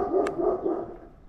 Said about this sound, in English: A big dog there.